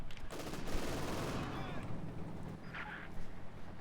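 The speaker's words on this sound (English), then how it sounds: "One MG42. burst, suppressed." Gunfire from an MG42 machine gun in Company of Heroes 2, a dense rattling burst mixed with other battle noise and explosions throughout, under commentary talk.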